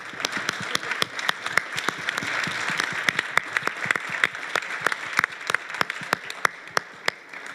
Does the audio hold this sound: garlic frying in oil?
no